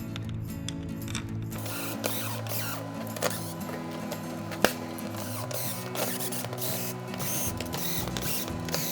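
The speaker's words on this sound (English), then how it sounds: "So we'll go ahead, line up this gasket, start bolting this down." Bolts are run down on a gasket at a fuel cell bulkhead for a race car fuel system, a tool ratcheting and clicking steadily up close, with occasional sharper clanks over a constant mechanical whir.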